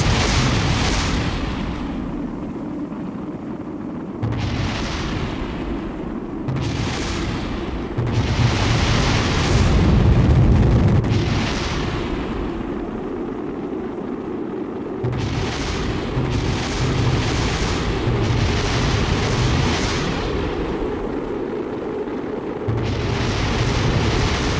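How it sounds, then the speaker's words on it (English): Dense, continuous roaring blasts and rumbling booms of rocket explosions in Kerbal Space Program pile up for a long stretch, loud and close, swelling in bursts without any talking. "So beautiful. All these explosions."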